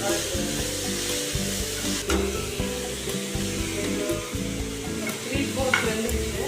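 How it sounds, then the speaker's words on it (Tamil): Tomato and capsicum fry in a pan with a steady, close sizzle and repeated scraping from a stirring spatula, with a faint tonal hum underneath. "இப்போ டொமேட்டோவும் கேப்சிகமும் எல்லாத்தையும் போட்டுட்டு அதையும் நல்லா வதக்கிடுங்க."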